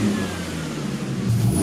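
A 2008 Ford Mustang engine revs steadily as the gas pedal is pressed, a loud, close, continuous mid-range drone that swells slightly near the end, with no talking.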